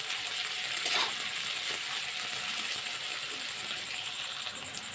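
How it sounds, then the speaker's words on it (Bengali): Chopped onion, salted, fries in a pan for a fish recipe, giving a steady close sizzle with faint stirring scrapes throughout and no talking. "পেঁয়াজের মধ্যে অল্প একটু লবণ দিয়ে দেবো তাহলে পেঁয়াজটা তাড়াতাড়ি ভাজা হয়ে আসবে"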